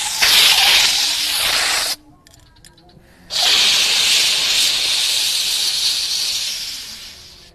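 A Protek fire extinguisher sprays upward outdoors near a swamp. A loud, close, steady hissing rush runs for about two seconds, stops briefly, then resumes and slowly fades.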